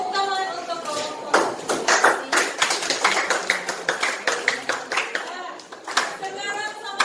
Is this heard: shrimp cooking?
no